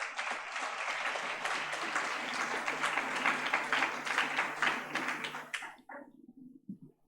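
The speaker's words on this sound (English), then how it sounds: "Please give them a round of applause." Audience applause at a nursing college convocation ceremony in Hyderabad, a steady wash of many hands clapping for about six seconds before thinning out to a few scattered claps.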